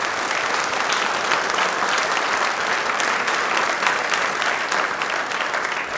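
Loud, sustained applause from a sizable audience fills the space, steady and continuous with no break.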